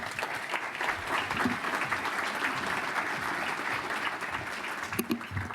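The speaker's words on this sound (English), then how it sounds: "Let's give her a round of applause, folks." Luncheon audience at a business council gathering breaks into steady applause, a full room of clapping sustained for several seconds with a few sharper claps and a faint voice near the end.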